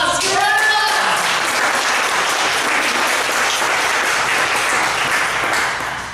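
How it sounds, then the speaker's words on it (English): An audience in a teaching session breaks into a loud, sustained round of applause, dense clapping that holds steady for several seconds before easing slightly at the end. "Give her a round of applause."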